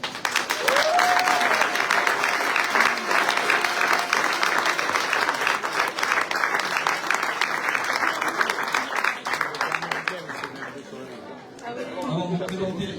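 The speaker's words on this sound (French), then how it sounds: "On peut vous applaudir." Crowd of parents and supporters applauding at the opening ceremony of a youth rugby tournament at a municipal stadium, sustained dense clapping with chatter mixed in, fading toward the end as a voice begins.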